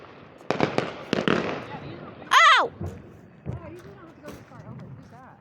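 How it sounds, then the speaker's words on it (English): Big Fourth of July fireworks burst several times in succession, loud, sharp booms and crackling reports with one prominent whistling rise, while people talk excitedly throughout. "Big ass fireworks, dude."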